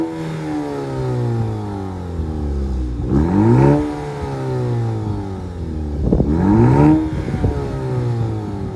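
2023 Maserati Grecale Modena with a 2-liter turbocharged four-cylinder hybrid engine revving up close, two sharp throttle blips rising and falling over a steady idle, loud and with no talking.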